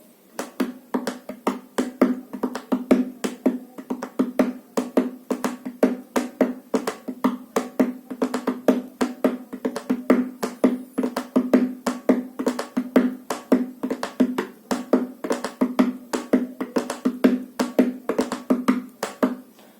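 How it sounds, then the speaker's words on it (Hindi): Rapid, steady dholak beats in a continuous rhythmic pattern, crisp slaps over a resonant low tone, played up close without pause. "आवाज वही आ रही है, ढोलक वही बज रही है।"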